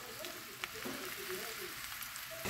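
A zucchini omelette (torta di zucchini) fries in a pan, a steady close hiss and sizzle with faint crackles throughout, moderately quiet.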